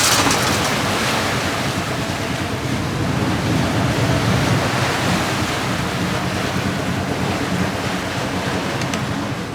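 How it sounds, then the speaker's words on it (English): An old ferry boat from 1964 crossing the water near Morsø, Denmark, heard as a steady, loud wash of waves and wind noise with a low engine rumble underneath, continuous throughout with no talk. "the ferry boat is off again, chugging back across the water to make another trip"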